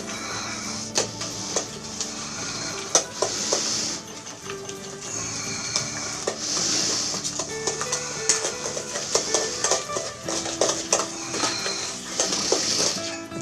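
Chestnut shortbread dough with whole eggs and yolks is mixed in a bowl, giving a steady clatter and scrape of utensil against the bowl with rhythmic knocks and whirring underneath, with no voices.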